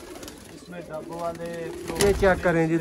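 Pigeons cooing in repeated throaty rolls, fairly close, with someone speaking briefly over them.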